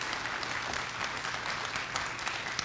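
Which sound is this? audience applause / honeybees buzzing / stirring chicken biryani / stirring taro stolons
audience applause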